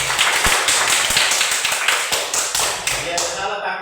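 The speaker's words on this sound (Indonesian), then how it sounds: "Kita tepuk tangan buat kelompok 3." A class of schoolchildren claps for a group of classmates, with several bursts of scattered hand claps up close while a teacher speaks over them.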